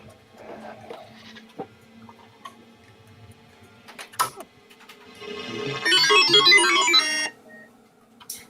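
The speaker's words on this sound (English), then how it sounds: "That's a pretty cool startup sound" A NABU computer boots up, scattered clicks and faint tones building to a bright, busy burst of chiming electronic notes lasting about a second, then quieting.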